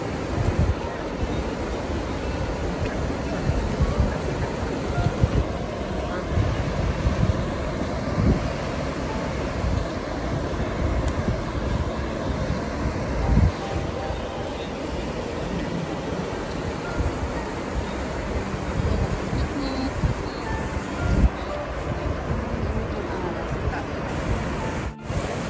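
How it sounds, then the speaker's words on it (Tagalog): Strong sea waves surging and breaking continuously, a broad roar mixed with gusty wind buffeting the microphone, with faint voices in the background. "Ganda ng dagat, lakas ng alon."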